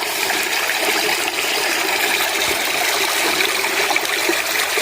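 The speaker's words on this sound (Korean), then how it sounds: "물소리도 참 시원하게 들립니다." Mountain stream water rushing steadily nearby, a dense continuous wash of flowing water with no pauses, heard alone without voices.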